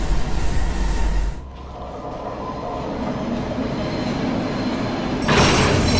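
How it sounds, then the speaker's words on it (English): A train in the horror game Cry of Fear breaking apart: loud rumbling rail noise cuts out abruptly into a hollow, lower roar of rolling carriages, then surges back to a harsh, bright clatter at the end. "Oh, the train's breaking."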